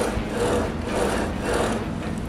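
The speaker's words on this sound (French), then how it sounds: "on va utiliser la slotteuse" A continuous rough, grinding cutting noise from a slotting saw cutting fret slots in a wooden guitar neck, steady and fairly loud with slight rhythmic surges.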